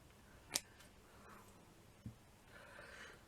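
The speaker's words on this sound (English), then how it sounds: "You can just cut those loops." Scissors snip through crocheted doily loops while a cushion is being made, two quiet sharp cuts heard alone in a hushed room.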